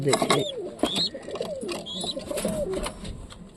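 Satin pigeons coo repeatedly in soft, throaty rolls, with a few higher chirps mixed in and a person talking over them.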